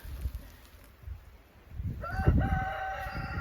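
A rooster crows loudly partway through, its long harmonic call rising over a low background of rustling and faint farmyard noise, in deep snow in Arkansas.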